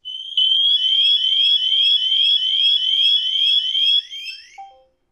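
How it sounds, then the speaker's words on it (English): An ADT security system siren set off by a door entry sensor blares as a loud, steady, piercing electronic tone with a fast pulsing warble for about four seconds before being silenced, followed by short confirmation beeps. "so that alarm went off"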